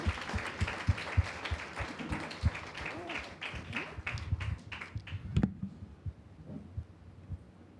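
Church congregation at a Sunday Father's Day service clapping in a steady rhythm, faint and somewhat distant, before the beat stops and leaves near silence.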